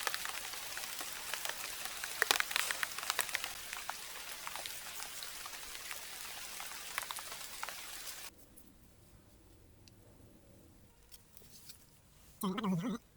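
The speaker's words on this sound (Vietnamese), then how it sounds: "Đang khô ráo thì trời lại mưa." Rain falls in a forest near abandoned old houses, a steady dense patter with scattered louder drops. It stops abruptly midway, leaving quiet ambience and a final short burst of noise.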